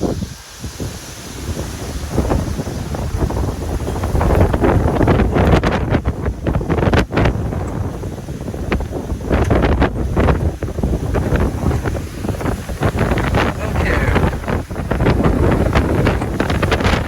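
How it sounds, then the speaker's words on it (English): Roaring gust of about 70 mph during a severe thunderstorm in Muscatine, Iowa, loud and continuous, buffeting the microphone with heavy, surging wind noise throughout. "There's that 70 miles an hour wind gust they're talking about."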